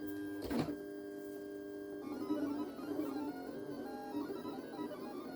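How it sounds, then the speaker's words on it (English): A Silhouette cutting machine slowly slices through printable magnetic paper, a steady, quiet mechanical whir with a brief louder motor burst near the start, then a continuous low drone of the carriage working. "cutting through this printable magnetic paper is a slow process"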